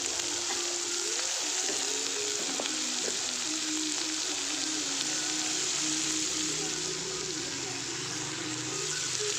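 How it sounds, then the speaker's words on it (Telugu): Onions with salt fry in a pan for gongura curry, giving a continuous, even sizzle with faint stirring clicks throughout, close and alone. "ఉల్లిగడ్డ తొందరగా వేగాలి అంటే, ఆనియన్స్ వేగాలి తొందరగా అంటే అందులో సాల్ట్ వేయండి"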